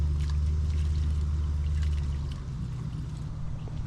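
Water pouring and rinsing over a camper van's toilet cassette outdoors, a steady close splash over a low rumbling background, easing slightly toward the end with no talking.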